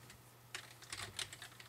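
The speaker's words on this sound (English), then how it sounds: "now we're just going to type" Keys tapped on a computer keyboard while entering code in the WaveMaker Visual Ajax Builder, a brief pause and then a quick, close run of light clicks with no talking.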